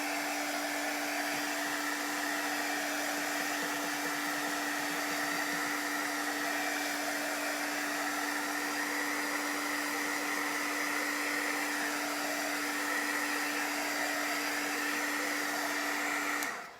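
Hair dryer blowing over wet chalk paint on a stencil craft project, a steady close whirring hum with a constant airy rush that holds unbroken throughout.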